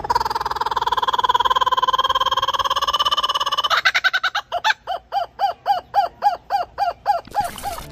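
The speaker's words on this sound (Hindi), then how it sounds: "कूकाबूरा ऑस्ट्रेलिया का एक अनोखा पक्षी है जिसे उसकी जोरदार और हंसने जैसी आवाज़ के लिए जाना जाता है।" A kookaburra, the Australian bird, gives its loud laughing call alone: a long rolling chuckle that breaks into a run of about a dozen sharp, evenly spaced cackling hoots, close and strong.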